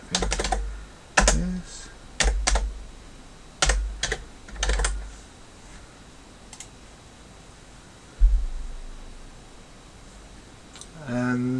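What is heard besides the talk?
typing on a computer keyboard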